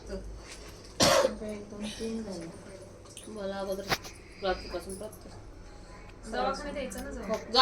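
A single sharp cough rings out near the start, followed by a smaller throat-clearing sound, with quiet talk continuing around it indoors.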